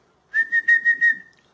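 A person whistles in imitation of a traffic cop's whistle, giving five quick sharp shrill bursts in a row, loud and close, with no talk.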